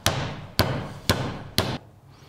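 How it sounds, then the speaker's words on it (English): A blacksmith's hammer strikes metal four times at an even, unhurried pace, each blow a sharp, loud ringing clang that decays briefly before the next. "So the face of the hammer moves material in 360 degrees."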